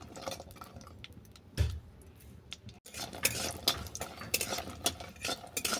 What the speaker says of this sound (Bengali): তেল গরম হয়ে গেছে তুলে দিলাম বড়ি বড়িগুলোকে নেড়ে চেড়ে বাদামি করে ভেজে নেবো